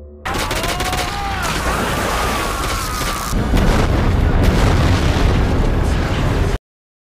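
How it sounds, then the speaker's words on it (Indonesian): A film explosion erupts with a burst and booming roar, followed by a louder, sustained rumbling blast with crackling debris that cuts off abruptly, with faint tones in the early part. "Peter mati tersengat listrik dan meledak bersama Network."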